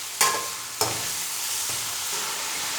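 Chicken pieces frying in ghee in a pan, giving a steady close sizzle with a few sharp clanks of stirring near the start, and no voices.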